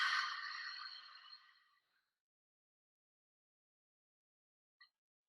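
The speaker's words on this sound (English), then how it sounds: "we'll breathe out through the mouth, making that sound for a couple of cycles" A deep exhale out through the mouth during a guided meditation, one long soft breath fading over about two seconds, then quiet with a faint small sound near the end.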